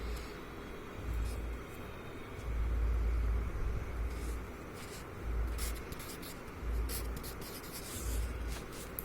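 Someone writes numbers on a board in a maths class, making soft scratching strokes in short bursts with pauses between. Faint rumbling background noise sits under the writing.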